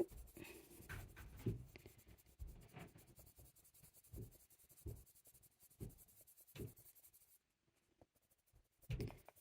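A pencil scratches and shades across paper while drawing a fir cone, with close, soft strokes in irregular bursts and a brief pause near the end, and no voices.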